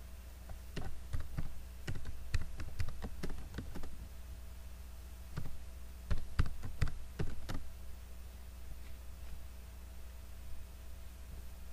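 Computer keyboard typing in quick bursts of close, crisp key taps, a cluster early and another flurry later, with pauses between, over a faint steady hum.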